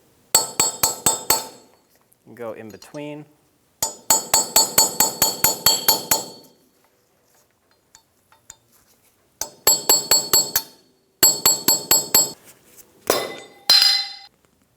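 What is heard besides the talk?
flat chisel and hammer removing a wheel hub cap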